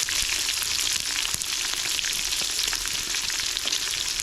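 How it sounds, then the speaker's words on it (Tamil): Onions, curry leaves and green chillies sauté in hot oil with whole spices, giving a steady, close, hissing sizzle that runs continuously. Occasional crackles and stirring scrapes rise above it, and no one speaks. "இது எல்லாத்தையும் சேர்த்து நல்லா வதக்கி விட்டுடலாம்."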